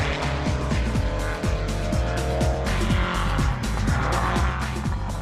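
Scrapbuilt race car powered by a Jeep engine pushing hard around a racetrack, a loud, continuous engine roar with rhythmic gear and rev pulses close by.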